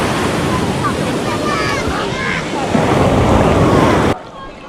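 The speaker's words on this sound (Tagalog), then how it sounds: "lakas yung alon." Strong sea waves crash and wash along the shore at Finale Ligure, Italy, a loud, roaring surf heavily buffeted by wind noise on the microphone, continuous and close before cutting off abruptly near the end.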